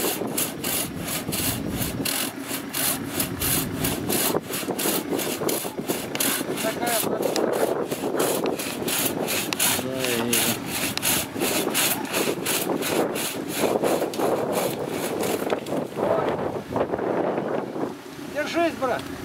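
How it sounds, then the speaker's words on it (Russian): A hand saw cuts through a tree branch beside a camp pond, fast rhythmic rasping strokes close up and continuous, with wind buffeting the microphone and people talking now and then over the sawing. "Пилит сук, на котором сидим."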